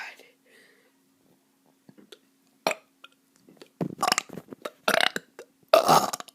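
A kid burping repeatedly, several loud, close belches that grow more frequent and forceful toward the end, mixed with breathy whispered noises and quiet vocal sounds between them.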